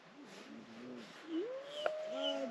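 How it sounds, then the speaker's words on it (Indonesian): Birds call near a mountain summit on Merbabu, with a low cooing repeated at first and then a few higher rising whistles, fairly faint over steady background hiss. "suara burung ya"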